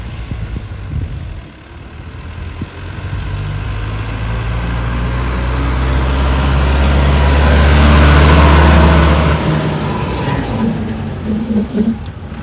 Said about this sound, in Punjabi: ਇੱਕ ਵਾਰ ਟਾਪ ਗੇਅਰ ਚ ਵੀ ਸਪੀਡ ਦਿਖਾ ਦਿਓ ਜੀ ਤੇ ਹੁਣ ਇਹਦਾ ਮੋਸ਼ਨ ਦੇਖੋ ਜੀ ਕਿਵੇਂ ਫੜਦਾ ਟਰੈਕਟਰ